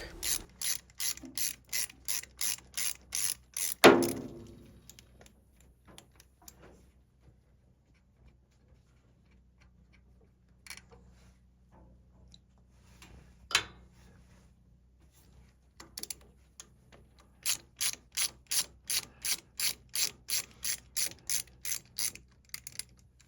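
A ratchet works loose the lower hose fitting on the engine block of a Farmall F-14 tractor. It gives rapid, close clicking in a burst, pauses for a clank and scattered small taps, then clicks steadily again.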